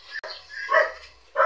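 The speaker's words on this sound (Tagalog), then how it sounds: "Ang ingay ng mga aso." Dogs bark at a house in a few short, mid-loud yips and barks, with a brief gap between bursts.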